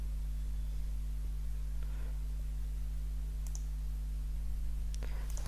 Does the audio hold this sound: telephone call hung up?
no